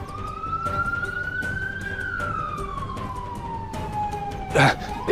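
An ambulance siren wails with a slow rising and falling pitch, moderately distant, over street noise with a brief louder burst near the end.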